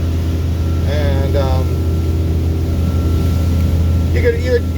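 A 2018 Regal 35 SC motorboat cruises at about 25 mph around 3,800 RPM, its engines giving a steady loud drone with water rush while someone talks over it.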